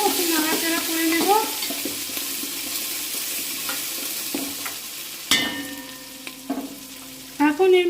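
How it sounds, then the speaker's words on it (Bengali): Ginger paste stirred and fried in hot tempering oil for a vegetable moong dal khichuri: a close, steady sizzle broken by spoon scrapes and sharp metallic clanks against the pan, with no talking. "ফোড়ন হয়ে গেলে এর মধ্যে আমি আদা বাটা দিয়ে দিচ্ছি, দিয়ে আদাটাকেও একটু নাড়াচাড়া করে নেব"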